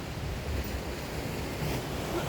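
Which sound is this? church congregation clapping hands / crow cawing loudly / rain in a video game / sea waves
sea waves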